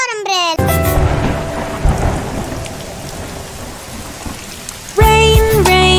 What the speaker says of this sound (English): Rain, rain, go away, come again.